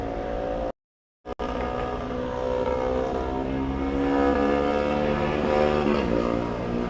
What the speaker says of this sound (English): That's a motorbike.